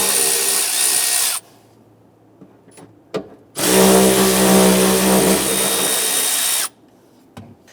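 Power tool driving an 8mm socket to remove the filler neck bolts on a 1994–2004 Ford Mustang during fuel pump module replacement, with two loud sustained bursts of whirring separated by a quiet pause and a few clicks.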